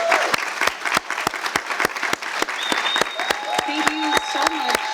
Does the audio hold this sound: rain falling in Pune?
no